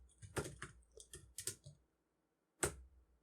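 Typing on a computer keyboard, a quick burst of close, crisp key clicks for about a second and a half, a pause, then one more sharp keystroke, with no voices.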